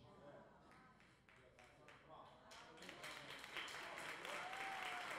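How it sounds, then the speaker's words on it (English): Scattered clapping from a church congregation during a pastor's sermon, starting sparse and thin, then building into a fuller, steadier patter toward the end, with voices talking over it. "I'm getting 3 claps and a half an amen"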